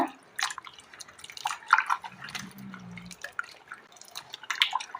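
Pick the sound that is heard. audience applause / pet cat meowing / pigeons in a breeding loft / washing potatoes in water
washing potatoes in water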